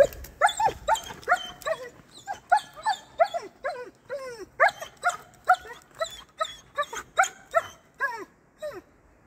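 A dog barks repeatedly at deer outdoors, a close, rapid run of sharp yips and whining barks in quick bursts with brief pauses, loud and unbroken by speech.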